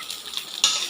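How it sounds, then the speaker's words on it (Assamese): Ginger, garlic and cumin paste drops into hot oil and flares into a sharp, steady sizzle, close and fairly quiet, after a few softer crackles. "এয়া আদা নহৰু জিৰাখিনি পিছা ইয়াতে দি দিওঁ তেলতে"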